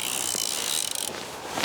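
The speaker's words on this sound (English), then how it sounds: "that's the noise of a man's 55-year-old fly reel behind me" A rapid ratcheting click from a 55-year-old fly reel as line is pulled out, a continuous fast buzz that stops abruptly, then brief faint clicks.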